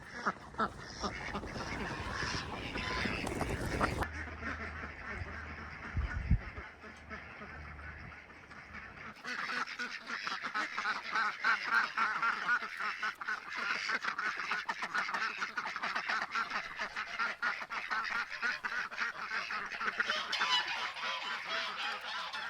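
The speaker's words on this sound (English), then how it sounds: "I'm gonna go get these ducks, and I'll get the geese" A flock of farm ducks and geese quacking and honking near a newly built backyard pond, a busy continuous chorus of overlapping calls, close and lively, rising after a brief quieter stretch with some background noise.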